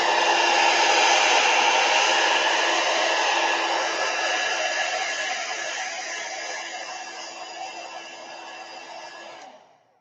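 A hair dryer blowing over a watercolor painting, a loud steady whir that slowly fades and then cuts off at the end.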